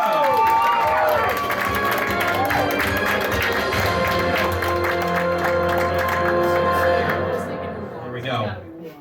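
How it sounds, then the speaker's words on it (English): A crowd at an anime convention's quiz show applauds and cheers loudly and continuously, with voices mixed in, before the clapping fades out at the end. "You can start clapping"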